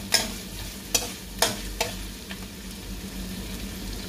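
Ground meat sizzles in a pan while being stirred, with four or five distinct scraping strokes of the utensil over a steady frying hiss.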